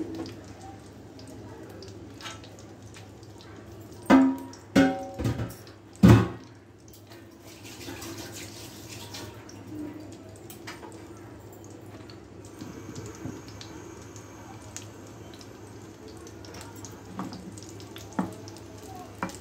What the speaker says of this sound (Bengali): চিড়ার চপগুলো দিয়ে দিচ্ছি গরম তেলের মধ্যে। সবগুলো চপ আমি একসঙ্গে দিয়ে দিচ্ছি।